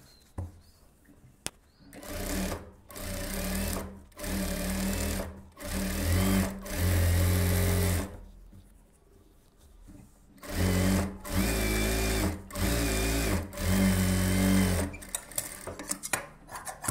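Close, loud sewing machine stitching a silk saree blouse in a series of short runs of a few seconds each, separated by brief pauses.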